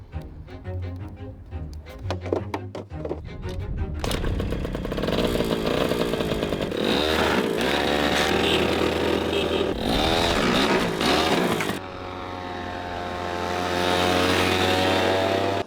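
A hotwired Honda Vision moped, bought cheap, sputters through a few starting attempts, then catches and revs hard in a loud, buzzy, wavering drone that rises and falls repeatedly, with a brief dip before revving up again, close and continuous.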